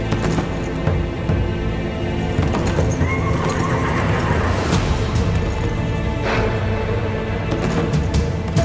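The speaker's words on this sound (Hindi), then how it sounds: "शहजादे अलाउद्दीन का घोड़ा अकेला आ रहा है।" A horse neighs and whinnies loudly over the steady clip-clop of hooves as it arrives without a rider, set against a busy, dense background of period drama battle-camp sound.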